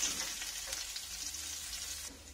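Green chili and ginger fry with cumin in a pan, giving a steady, close sizzle with faint stirring scrapes throughout.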